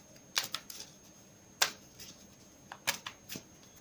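Oracle cards being shuffled, quiet bursts of crisp riffling and flicking in three separate clusters with pauses between, close and soft.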